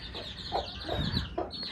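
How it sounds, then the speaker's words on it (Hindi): A mother hen with three chicks clucks softly in short low bursts at close range, with faint peeping and rustling from the chicks around her. "ये वाली मुर्गी अपने 3 बच्चों के साथ इधर है।"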